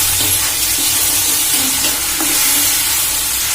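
Ginger-garlic paste and onion hitting hot oil in a pan for an Assamese pork curry, giving a steady loud sizzle and hiss that runs without a break and with no talk.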